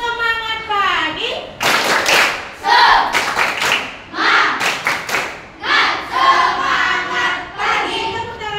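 Sixth-grade schoolchildren in a classroom chant and clap in rhythm together, sharp bursts of group clapping punctuating loud chanted voices, close and lively, with an adult voice leading.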